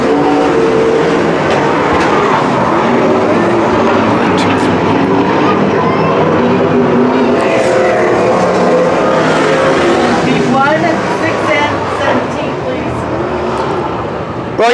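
Wingless spec sprint cars race on the dirt oval at Calistoga Speedway, a dense, loud, steady engine roar with several cars blending together, under a race announcer calling the field.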